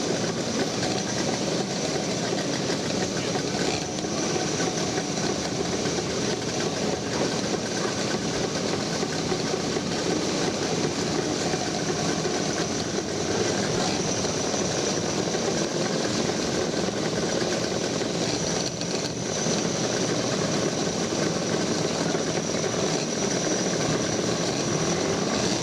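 Vintage motorcycles, including Scotts, set off at the start of the Banbury Run with a continuous, dense engine drone that stays steady and fairly loud throughout.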